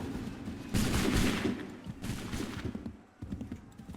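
Assassin's Creed III Remastered musket volleys roar in two loud, crackling bursts close together, then trail off into scattered smaller shots and battlefield clatter.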